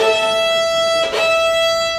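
A beginner bows a string instrument with a fuller stroke, drawing one steady, buzzy sustained note, close and fairly loud, with a brief scratchy catch at a bow change midway.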